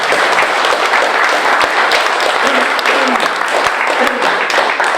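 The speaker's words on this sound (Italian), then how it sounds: "meritano un applauso" An audience applauds warmly at a talk, with dense, steady clapping from many hands at close range that holds for the whole stretch and never breaks.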